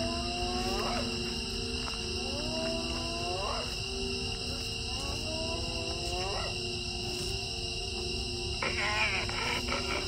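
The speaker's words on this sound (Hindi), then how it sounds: "ये हंसने की आवाज़ आ रही है यहाँ की तरफ।" Spotted hyenas by a pond at night give rising whooping and giggling calls at a distance, several calls spread across the clip over a steady hiss of insects and background noise.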